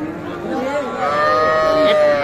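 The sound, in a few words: young bulls at cattle market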